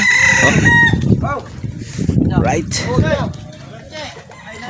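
Chickens cluck repeatedly nearby on a farm and a rooster crows, with a person briefly talking among the birds.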